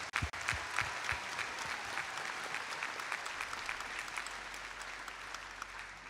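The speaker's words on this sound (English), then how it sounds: "Can we get a round of applause for all the hard work you've done?" Audience applause at a robotics district championship event, a sustained wash of many hands clapping at steady loudness through the whole stretch, with a low hum creeping in toward the end.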